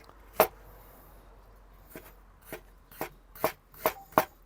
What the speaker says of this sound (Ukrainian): Цибулину рубаємо мілко.